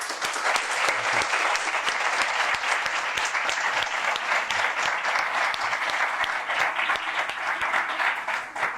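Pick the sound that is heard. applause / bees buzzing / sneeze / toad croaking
applause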